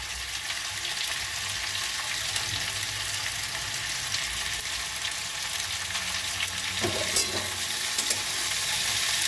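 Sliced onions fry in a pan while being stirred: a steady, close sizzle with scraping stirs running through, with a brief clatter near the end.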